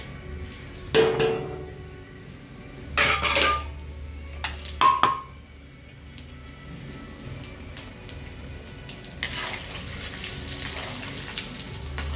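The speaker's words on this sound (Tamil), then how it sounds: "கடுகு நல்லா பொரிஞ்சு உளுந்தம்பருப்பு செவந்து வர வரைக்கும் நல்லா தாளிக்கலாம்." Mustard seeds and urad dal tempering in a hot pan while preparing aval upma, with scattered pops, sizzling and a few sharp clinks of a utensil against the pan, close and moderately loud, with no talking.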